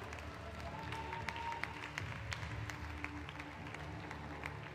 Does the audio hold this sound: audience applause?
yes